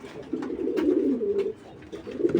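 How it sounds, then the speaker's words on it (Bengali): Several pigeons coo together in low, rolling, overlapping calls, close by and continuous, with a short lull before the cooing picks up again. "আজকে আমরা বাহিরের সব কবুতর ছেড়ে দিছি"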